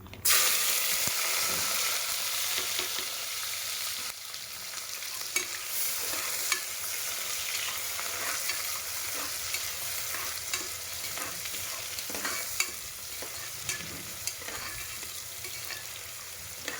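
Chopped onions, green chillies and coriander sizzle in hot ghee for ghee rice, a steady frying hiss with repeated scraping and clacking of a spatula stirring the pan.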